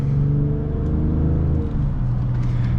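Steady, loud engine drone from a 2020 BMW X5 M50d diesel SUV in sport mode, a deep continuous rumble with harmonic tones that shift pitch slightly as revs change, heard from inside the car with no talking.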